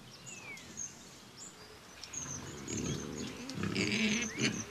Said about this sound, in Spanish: El cerdo ibérico en este sur